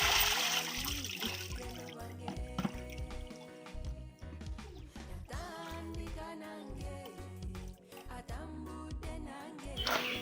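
Eggplants being washed by hand in water, with steady splashing, dripping and trickling throughout, fairly close and continuous.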